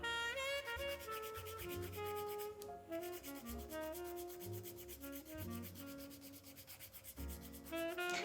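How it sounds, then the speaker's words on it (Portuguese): A nail file with its lowest grit smooths encapsulated bioglitter fingernails. Soft, continuous rubbing strokes sit beneath loud, tonal background music. "Nesta parte, vamos utilizar a gramagem mais baixa da nossa lima."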